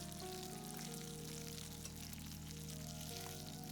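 Beltfish pieces frying in hot oil give a steady, faint sizzle and crackle that holds unchanged throughout, with a low hum underneath and no voices.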